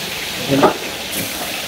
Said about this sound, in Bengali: এখন ভাজি হচ্ছে আমাদের ইলিশ মাছটা। দেখান যে আমাদের ইলিশ মাছ ভাজি হচ্ছে।